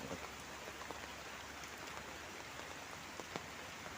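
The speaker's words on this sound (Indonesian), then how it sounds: "hujannya sudah agak reda" Steady rain falling over a village, an even, moderately faint hiss of drops on surfaces with occasional sharper droplet ticks, no voices.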